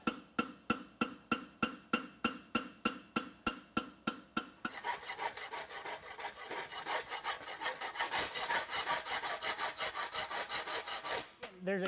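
Sharp, evenly spaced strikes ring out close by for a few seconds, then give way to a continuous gritty rasping as a file works over a forged steel diamond-toe inverted bar horseshoe.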